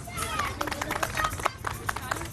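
Studio audience applause greeting a guest on a Pakistani morning talk show, a steady patter of many hands clapping close by for a couple of seconds.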